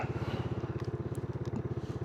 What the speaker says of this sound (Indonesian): Pengen tes ya sembari manasin motor